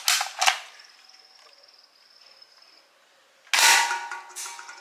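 Two sharp, loud pops from a toy plastic bullet gun firing, each with a short rattling tail; a faint high ringing fills the quieter gap between them.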